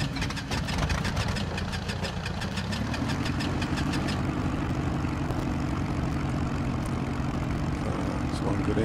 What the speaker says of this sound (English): That's one good engine start.